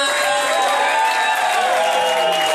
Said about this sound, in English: Does anyone want to give me a round of applause?